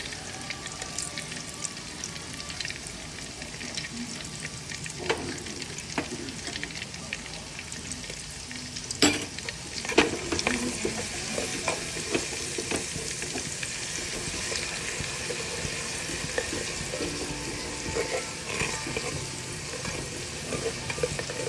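Ginger-garlic paste and onion frying in a clay pot, a steady close sizzle throughout with occasional stirring scrapes and a couple of brief knocks.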